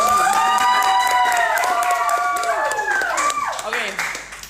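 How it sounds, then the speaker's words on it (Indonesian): A studio audience claps for two podcast guests, the dense patter of applause mixed with excited voices and cheering, fairly close and sustained before tapering off. "tepuk tangan dulu untuk kedua narasumber kita"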